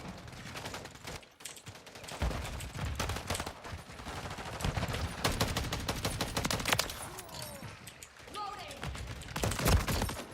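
Shotgun and other gunfire in Call of Duty Modern Warfare 3 crack in dense, overlapping bursts throughout, loud and close, forming a steady barrage.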